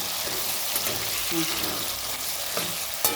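Green chillies fry in hot oil with a steady, close sizzle and crackle, punctuated by occasional stirring clinks, while a person speaks over it.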